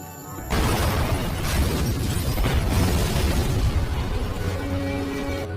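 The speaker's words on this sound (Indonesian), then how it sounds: "ledakan pun terjadi" A loud, sustained roaring blast erupts after a brief quiet moment, a dense rumbling burst that stays heavy and continuous without easing off.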